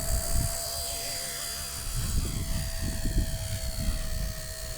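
A small Blade Nano S3 remote-control helicopter whines steadily overhead, its high motor tone holding constant over buzzing rotors and gusty wind rumble.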